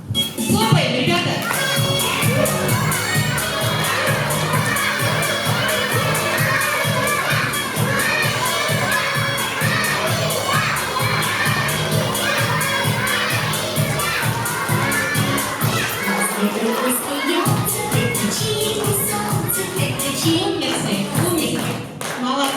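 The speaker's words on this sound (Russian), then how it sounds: "Хлопаем, ребята." Preschool children at a kindergarten game clapping in unison and shouting cheerfully, a dense, lively burst of rhythmic claps and young voices that continues steadily, with a short dip near the end before resuming.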